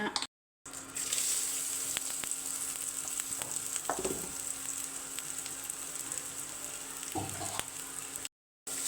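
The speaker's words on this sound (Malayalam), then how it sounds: "തീയലിനാവശ്യമായ തേങ്ങ വറുത്ത് തുടങ്ങി" Grated coconut roasting in a pan for Kerala theeyal, a steady dry sizzle and hiss with occasional scrapes of stirring and a few low clatters, close and continuous.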